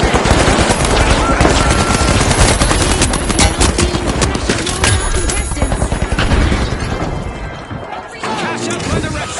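A deployed automated turret in the shooter game The Finals fires sustained machine-gun bursts, loud and close, mixed with impacts and crashes, tapering off near the end while a game announcer's voice occasionally cuts in.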